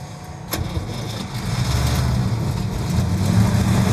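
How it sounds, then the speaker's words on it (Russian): A driving-school car's engine is started during a DOSAAF driving test: a sharp click, then the motor cranks and catches, settling into a steady, moderately loud idle that builds slightly toward the end. "Запуск двигателя."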